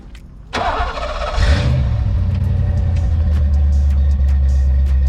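A Ford Fox body Mustang engine cranks and fires up, then settles into a loud, deep, rumbling idle, heard up close.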